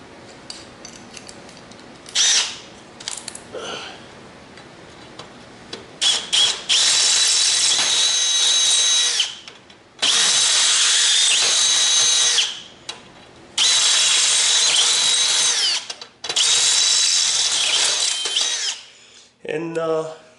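A power drill with a 5/16 bit whines loudly in several sustained bursts of a few seconds each, with short pauses and light handling clatter between runs.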